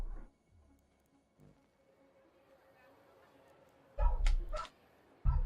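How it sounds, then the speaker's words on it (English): A pet dog barks in a nearby room behind a game session, giving a few short sharp bursts near the end that cut through a quiet, low background. "Can you guys hear my dog barking?"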